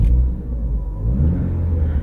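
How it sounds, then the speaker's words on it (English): A Ford Focus ST with a Boomba Racing stage 2 rear motor mount revs briefly, a deep, loud low rumble rising and settling nearby without speech. "I just revved it a bit"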